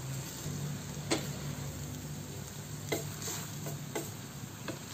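Vegetables stirred in a pan with a utensil, producing soft scraping and faint sizzling throughout, with a few brief clinks against the pan.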